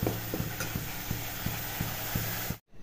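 Coriander paste stirred in a pan while cooking, a steady scraping and rhythmic clicking of the spoon at close range over a faint sizzle, ending abruptly.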